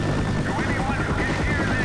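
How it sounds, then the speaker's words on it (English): Helicopter in the Left 4 Dead 2 No Mercy campaign, a continuous rotor whir and engine drone with a faint whine, steady and fairly loud, with people talking over it. "You can hear this helicopter's too loud."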